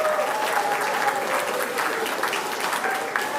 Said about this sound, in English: a lovely big round of applause for our second place skidders